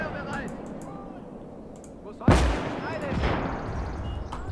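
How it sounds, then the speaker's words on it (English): Gunfire in a WWII game of German forces on the Atlantic Wall crackles at a distance, then a sharp close blast lands midway and further bursts and rumble follow under background battle noise. "That's that machine gun around there."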